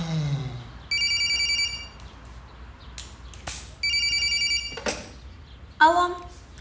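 A telephone rings indoors in two electronic bursts, each roughly a second long, separated by short gaps. A voice and brief rustling and handling noises fall between the rings.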